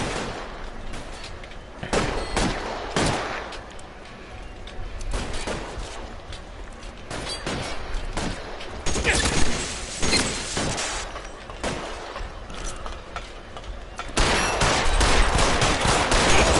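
Gunfire fills a shootout in the video game L.A. Noire, with sharp bursts and single shots cracking at uneven intervals across a noisy backdrop, some volleys louder and denser than others.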